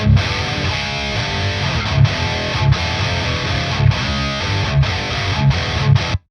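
Heavily distorted electric guitar through a VTAR metal amp on its raw voicing, playing a chugging, palm-muted riff with accented hits, loud and up close, cutting off abruptly at the end.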